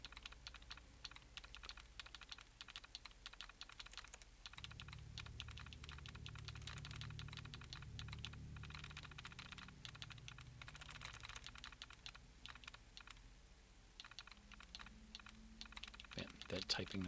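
Rapid computer keyboard typing clatters steadily throughout, a dense run of sharp keystrokes sounding from the Fallout 4 game, heard alongside a low droning game background hum.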